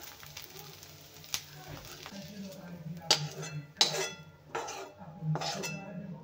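Three medium onions roast in a pan with low sizzling, punctuated by several sharp metallic clinks and scrapes of a utensil against cookware, close and fairly quiet.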